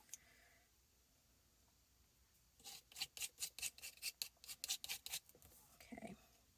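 Paper cookie bits are scraped up in a quick series of about a dozen soft, rhythmic rasping strokes, close and quiet after a near-silent pause.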